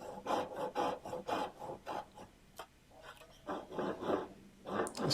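Steady back-and-forth rasping strokes of a Japanese ryoba pull saw cutting through wood, close up, with a brief pause midway before the strokes resume.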